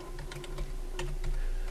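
Keystrokes on a computer keyboard come quick and irregular, close and moderately loud over a low steady hum, with no talking.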